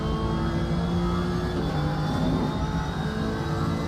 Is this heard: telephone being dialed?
no